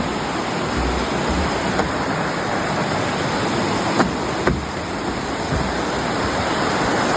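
River water rushing steadily near a footbridge on a California hiking trail, a continuous loud broadband roar with no breaks, a couple of faint clicks on top.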